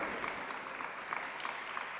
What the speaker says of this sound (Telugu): ఒకసారి తప్పకుండా చప్పట్లు కొట్టి దేవుని స్తుతించండి